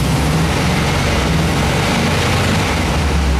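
Air-cooled Volkswagen engine revved up from idle, a steady loud low drone and rumble running unbroken and close throughout.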